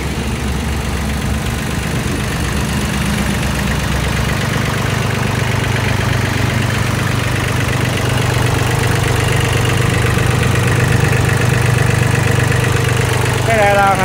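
Kubota L2202DT tractor with a three-cylinder diesel engine idling, a steady low rumble that runs continuously and loud throughout, with a voice speaking over it.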